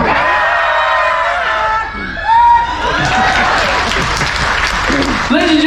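A cruise-ship audience on the NCL Breakaway claps and cheers loudly, a dense wash of applause with whoops and shouts building and holding for several seconds, a host's voice breaking in near the end.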